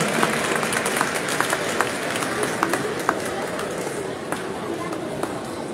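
Applause rises for the champions at a Peruvian chess federation award ceremony, with steady clapping from a seated crowd running throughout, a few sharper claps standing out, and an announcer talking over it.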